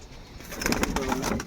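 Pigeons coo softly and close by in a short burst of low, rolling calls.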